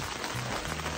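Overnight rain falling outdoors, a dense, even hiss of drops on surfaces, close and steady throughout with a faint low hum underneath and no talking.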